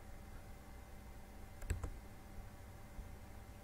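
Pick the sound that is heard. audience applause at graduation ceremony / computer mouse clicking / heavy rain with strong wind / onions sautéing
computer mouse clicking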